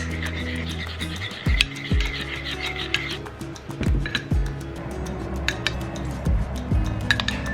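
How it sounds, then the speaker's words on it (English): A dressing of mayonnaise, vinegar, soy sauce and extra virgin olive oil being stirred in a bowl, with repeated close clinks and scrapes of a utensil against the dish, mixed with kitchen background sound. "vinegar, soy sauce, extra virgin olive oil. Mix, mix, mix."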